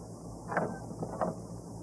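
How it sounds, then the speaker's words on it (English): Two brief metallic scraping rattles about half a second apart, a key worked in the lock of a back door as it is opened, heard quietly over a low steady hiss. "the scraping noise Floyd makes as he opens the back door with the key from his pocket"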